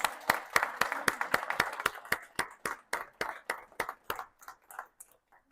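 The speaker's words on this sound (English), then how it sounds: "Let's give them a round of applause." A small group at a community gathering claps for Sweetwater volunteers, a brisk run of distinct near claps that thins out and slows over about five seconds.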